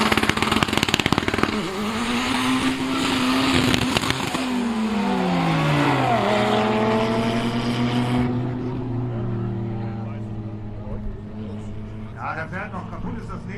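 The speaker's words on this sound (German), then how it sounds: "Audi TTRS gegen Audi A4 B6 18T Quattro." Audi TT RS and Audi A4 B6 1.8T Quattro launching side by side on a quarter-mile drag strip at Brilon, engines rising through gears with a loud sustained roar that fades into the distance, a voice talking over the noise.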